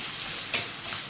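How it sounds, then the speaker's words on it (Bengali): Onion and garlic frying in a pan for a leafy greens dish, a steady close hiss of oil with one brief sharper crackle partway through, no voices. "এই যে পেঁয়াজ আর রসুনটা ভেজে নিচ্ছি"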